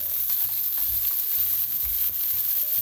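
Beer-braised sausages fry in a pan with a constant close crackle and sizzle, while low thumps of the pan or utensils recur now and then beneath it; nobody speaks.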